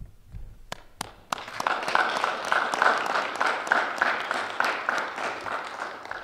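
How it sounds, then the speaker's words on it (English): An audience at an FFA banquet applauds the officer team, starting with a few sharp separate claps that quickly swell into sustained, fairly close crowd clapping that holds steady to the end. "please give a round of applause for the"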